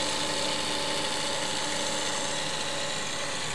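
A small pulse motor with a charging coil and a motor coil runs nearby, making a dense, steady mechanical whirring and buzzing that carries on without pause and without voices.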